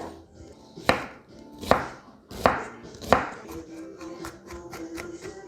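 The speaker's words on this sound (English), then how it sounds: "we start to cut our red onion like this, small chunks" A knife chops a red onion into small chunks on a board, four crisp evenly spaced strikes followed by quicker, lighter cuts, close and clear.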